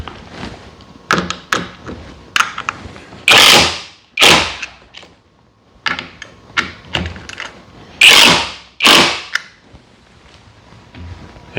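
A 7/16 wrench tightening nuts on a quick-change flush mount plate, heard as a series of close, loud metallic clicks and clunks in uneven bursts, with sharper ratcheting rasps recurring twice, with no talking.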